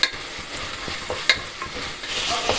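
Chopped tomatoes cooking down in a pan give off a close, bright sizzle, punctuated by a handful of sharp spatula scrapes and taps as they are stirred; no one speaks.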